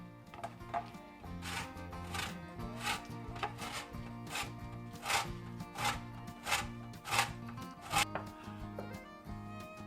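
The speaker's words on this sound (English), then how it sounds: "zest 1 lemon and also get about 2 tablespoons of juice out of it" A lemon being zested for a green tomato pie, a series of short rasping scrapes against a grater in an uneven rhythm, close and fairly quiet, with low background music underneath.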